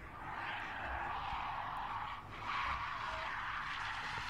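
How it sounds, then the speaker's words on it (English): A black Nissan Sunny drifting in Saudi Arabia, its tires skidding in a sustained, moderately distant screech that swells briefly near the end over engine and crowd noise. "He just keeps drifting. But it's the same black car. It's like this black Nissan Sunny."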